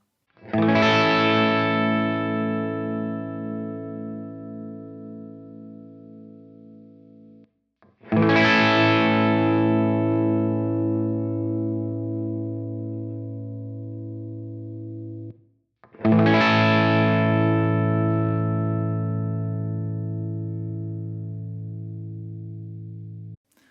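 Three strummed chords on a Gibson electric guitar played with a bright bridge-pickup tone, each ringing out and slowly decaying before the next, with no talking.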